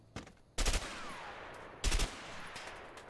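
Gunshots in the video game A Way Out, with a faint early pop followed by two loud, close blasts about a second apart, each ringing out in a short echoing tail over quiet ambience.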